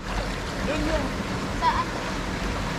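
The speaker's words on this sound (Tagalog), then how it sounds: "Umaagos yung tubig." River water flows steadily in Quezon, a close, continuous rushing wash with no breaks, while faint voices sit low in the background.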